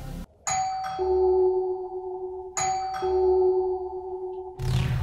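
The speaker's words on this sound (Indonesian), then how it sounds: "akhirnya dia pun membunyikan bel pintunya" A door chime rings a clear ding-dong twice in a row, each pair of tones ringing out and decaying, loud and close, with no voices.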